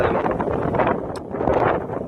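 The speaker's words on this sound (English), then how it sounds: "it's extremely windy" Strong wind on the Appalachian Trail buffets the microphone in a loud, continuous roar with gusty surges and no voices.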